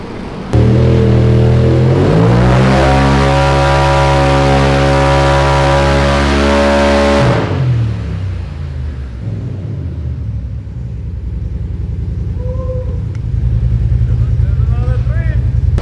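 Polaris RZR turbo side-by-side engine revving hard, a loud rising roar held for several seconds, then dropping back to a low idle rumble.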